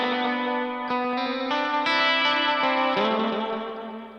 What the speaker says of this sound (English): That's a tape echo sound.